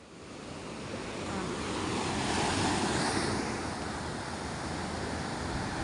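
Ocean surf breaking on a rough sea, a steady loud wash of waves that swells toward the middle and holds, with some wind noise and no voices.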